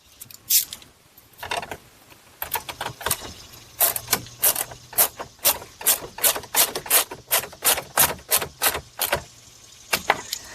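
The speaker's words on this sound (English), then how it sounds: "just make sure when you're tightening those, you don't over tighten it because it's just plastic" Rapid ratchet clicks in uneven bursts while fasteners on a plastic active grille shutter panel of a Buick LaCrosse or Chevy Malibu are tightened, close and fairly crisp with short pauses, no talking.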